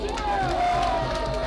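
A crowd at a political gathering honouring the 2018 presidential election of Félix-Antoine Tshisekedi, with a steady wash of applause and cheering that stays loud and dense throughout, voices mingling in the din.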